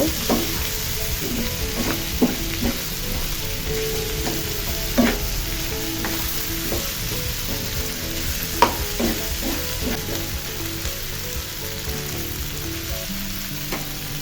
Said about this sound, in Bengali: এখন ফুলকপিটা সহ আবার সবগুলো উপকরণ ভালোভাবে একটু মিশিয়ে নিব।